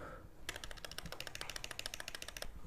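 Rapid, steady clicking of keys on a computer keyboard, close by, with no voices.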